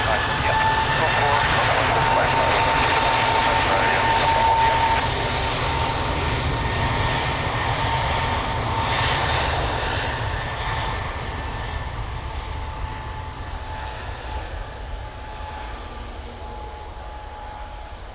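An airplane takes off from runway 02 at Lisbon Airport, its jet engines a loud, sustained roar that slowly fades as it climbs away, with voices faintly present.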